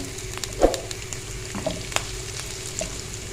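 Whole cumin seeds and cinnamon sticks frying in a pan for a dal tarka, a soft crackling sizzle with a few sharper pops and stirring scrapes, close by and fairly quiet.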